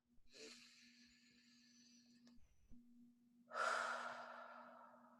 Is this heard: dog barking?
no